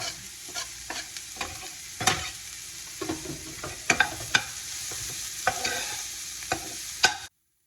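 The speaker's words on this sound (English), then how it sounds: "we're gonna pour in our red onions, and we're just gonna saute them for a bit till they're just about to get brown" Red onions sauté in a hot pan with a soft, continuous sizzle, while a spoon or spatula stirs them in scattered clicks and scrapes at close range.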